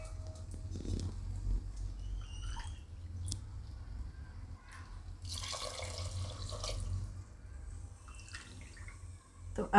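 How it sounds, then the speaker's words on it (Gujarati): Water poured into a pot of moong dal khichdi cooking on a low gas flame with ginger, giving a steady splashing and dripping sound with a brief louder gush midway, close and alone. "હવે આપણે આમાં પાણી નાખીશું."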